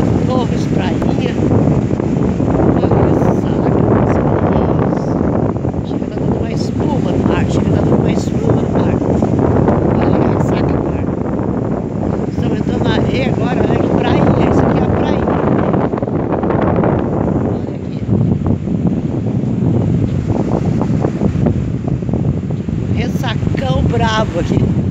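Rough surf and strong wind at Prainha beach in Torres, Rio Grande do Sul, form a dense, unbroken roar that stays loud and close for the whole stretch, with wind buffeting the microphone.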